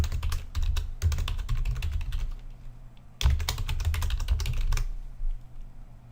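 Fingers tap out quick bursts of keystrokes on a computer keyboard, close and crisp, with a brief pause in the middle before a second flurry of typing.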